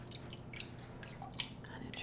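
A wheat bran bath for naturally dyeing cotton drips through a sieve: a few faint, sparse drops over a steady low background hum.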